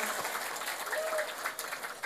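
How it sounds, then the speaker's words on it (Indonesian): Audience at a religious gathering claps for Bapak Samsul Aulia Rahman, a brief burst of fairly faint, continuous applause. "tepuk tangan dulu dumateng Pak Samsul"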